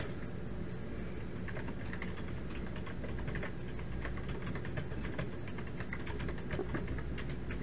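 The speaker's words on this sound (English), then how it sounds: "If I type this code in here, which I can do real quick" Code is typed on a computer keyboard for a Commodore 64 mapping demonstration, a steady run of soft, quick keystrokes heard close and fairly quiet over a constant background hum.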